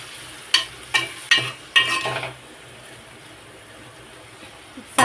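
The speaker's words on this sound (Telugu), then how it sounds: "ఈ టైంలో సాల్ట్ యాడ్ చేసుకోవడం వల్ల ఆనియన్స్ కూడా తొందరగా ఫ్రై అవుతాయి." Onions frying with salt are stirred in a pan, with four sharp spatula scrapes in quick succession over a sizzle, then a quieter fry before another knock at the end; no speech.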